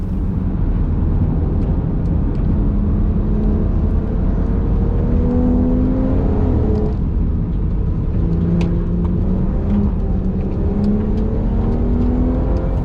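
A car laps a track on new, not-yet-released tyres that feel slidey until they warm up; a steady engine drone runs throughout, with revs rising and falling through the laps and no talking.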